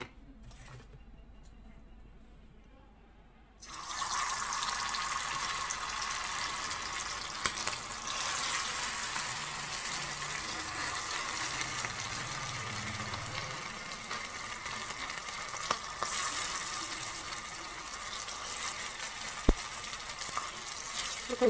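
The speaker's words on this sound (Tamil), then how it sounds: "கொஞ்சம் கொஞ்சமாக போட்டு வறுத்துக்குங்க." Marinated Chicken 65 pieces hit hot oil, breaking into a loud, continuous crackling sizzle that holds steady with small pops after a quiet start.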